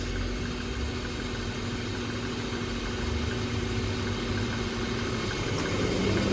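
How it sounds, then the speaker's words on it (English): A BMW engine runs steadily at idle while the air conditioning works, and an electric condenser fan swells gradually louder toward the end. The compressor clutch click is hard to pick out in the steady hum. "that was compressor click on, fans ramping up"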